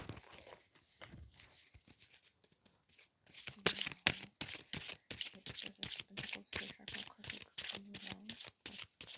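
Animal oracle cards shuffled by hand in quick, rhythmic riffling bursts that repeat steadily and close up, with quiet speech-like sounds faintly at the start.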